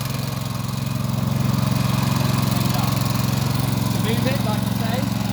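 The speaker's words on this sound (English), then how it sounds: "You push the choke into position, and then you just simply call it till it starts" A heavy-duty rotovator tiller's small engine putters steadily at low revs after starting, a continuous droning hum with a faint higher chirp near the end.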